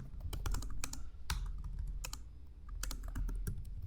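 Close, quiet clatter of keys typing a message on a computer keyboard, with irregular quick keystrokes and short pauses, no voices.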